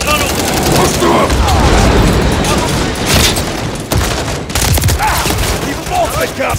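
Loud, dense suppressive gunfire in the video game Call of Duty: Modern Warfare III: continuous automatic bursts and booms in close combat, with shouted voices mixed into the din.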